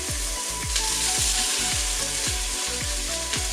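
Celery goes into softened vegetables in a Tefal pressure cooker, sizzling steadily, with a regular rhythm of stirring scrapes repeating roughly every half second.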